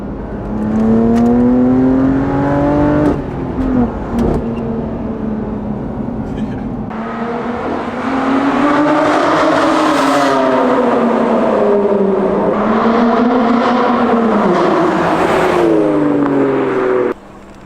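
A BMW S55 engine in an M car pulling hard, revs climbing in two rising sweeps with a raspy exhaust note, loud and close from inside the cabin, with a brief lift between pulls.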